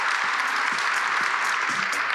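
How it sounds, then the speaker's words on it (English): Conference audience giving a round of applause to panelists at a fellowship awards presentation, steady continuous clapping from a moderately sized crowd at even loudness. "can I have a round of applause for our fellow panelists?"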